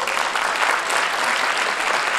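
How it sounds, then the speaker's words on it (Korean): Applause from an audience at the opening ceremony of a 2018 Korean Friends Party celebration, a steady dense clapping that fills the room, loud and continuous without pause. "박수 한번 주세요."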